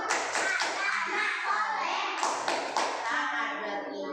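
Children in a kindergarten classroom clap a rhythmic chant together, a run of sharp hand taps over steady young voices chanting in unison, close and fairly loud.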